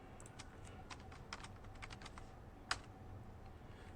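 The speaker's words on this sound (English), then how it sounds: "let me type this in" Quick, light keystrokes tapped on a computer keyboard while entering a math polynomial, faint and close, in short irregular bursts with one sharper key press, no talking.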